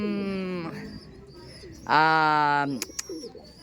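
Pet pigeons give two close, clear cooing calls, each lasting under a second with a short pause between them, followed by a couple of faint clicks.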